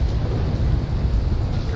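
Thunder from lightning strikes in the video game Subnautica: Below Zero, a low, continuous rumble with rain-like noise on top, moderately loud and sustained.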